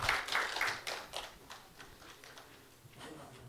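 Scattered clapping from a small audience at a speech contest, a patter of hand claps that thins out and fades after a couple of seconds.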